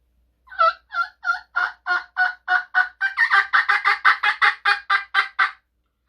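A wild turkey gobbler calls in a long run of about twenty rapid, evenly spaced gobbling notes that grow slightly faster and denser toward the end, clear and fairly close with no talk over it.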